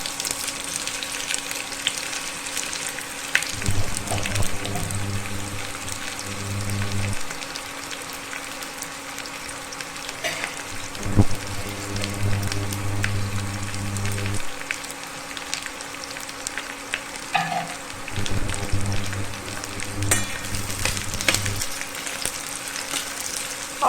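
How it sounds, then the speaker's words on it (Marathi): Three large onions frying in half a ladle of oil for a village-style country chicken dish, giving a steady close sizzle with periodic stirring scrapes and low clunks from the pan, no voices. "आता मी यात अर्धी पळी तेल घालाली कांदा भाजून घ्यायचा आहे आपल्याला"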